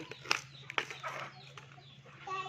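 Fighting cocks kept and raised for sale at a rural Thai home clucking and calling, with a couple of sharp louder squawks near the start and softer fowl noises continuing over a steady background hum.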